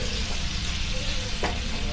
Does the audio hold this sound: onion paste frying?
yes